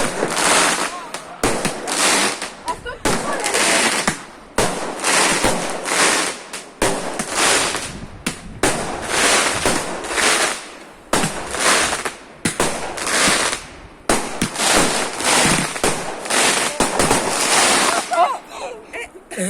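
Fireworks and firecrackers bursting outdoors on Orthodox Easter night, a dense run of loud, sharp cracks and booms in rapid clusters with short gaps, along with wind buffeting the microphone and people talking now and then.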